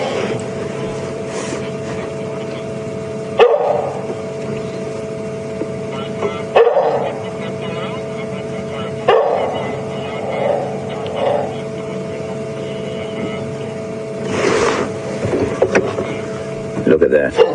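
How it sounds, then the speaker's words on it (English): An African wild dog calls on a game reserve safari drive, giving intermittent dog-like yips and calls over a steady vehicle engine hum. "So you can hear it's a dog-like sound he's making, but not quite a domestic animal sound."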